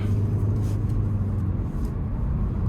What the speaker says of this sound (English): starting the test drive in this Elantra SEL Sport